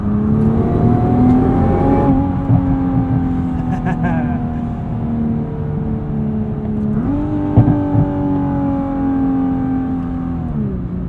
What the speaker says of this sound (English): R mode, you get a little pop from the exhaust.